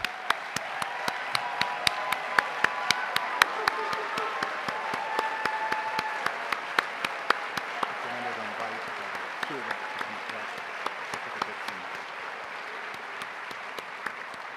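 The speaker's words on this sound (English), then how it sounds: "let's give them a round of applause" A crowd at a sports awards event applauds athletes steadily for several seconds, dense clapping filling the room with a few voices murmuring underneath.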